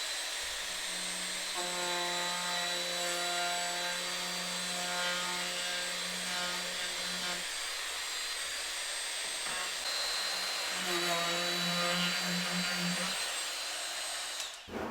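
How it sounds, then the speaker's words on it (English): A handheld wood router cuts a small round-over profile around three drilled holes in a wooden toothbrush holder, giving two sustained whining passes with a steady pitched drone, loud and close, separated by a brief lull. "So get a bit, put my router and do that."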